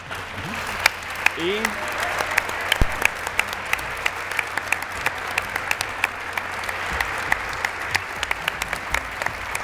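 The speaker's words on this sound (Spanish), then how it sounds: "vaya que tienen ganas de aplaudir." Audience applause at a live televised cultural broadcast, steady clapping from a seated crowd with sharp individual claps standing out, while a presenter speaks over it.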